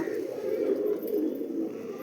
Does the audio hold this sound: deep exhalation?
no